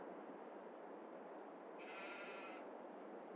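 A single sheep on a farm gives one short, faint bleat over a steady hiss of background noise.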